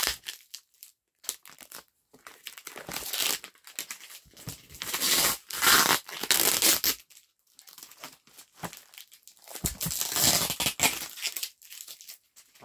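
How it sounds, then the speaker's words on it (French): Adhesive packing tape is pulled off the roll and torn in several loud, crackling bursts while DVDs are packed, with short pauses between strips and no talk. "désolé pour le bruit du scotch"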